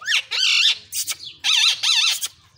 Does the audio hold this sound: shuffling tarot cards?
no